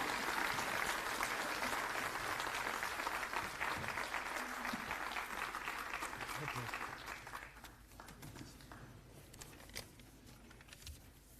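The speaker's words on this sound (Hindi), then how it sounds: "अब जोरदार तालियां और खड़े होकर स्वागत करेंगे हमारे प्रसिद्ध मुख्यमंत्री अरविंद केजरीवाल जी" Loud applause from a large audience welcoming a chief minister at a gathering of newly elected city councillors, steady dense clapping for several seconds before it thins and fades toward the end.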